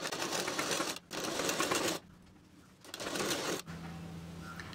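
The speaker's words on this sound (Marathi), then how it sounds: "मग आता शिलाई मारून घेणार आहे" A sewing machine stitching satin fabric for a scrunchie, close, in loud rapid whirring bursts separated by short pauses.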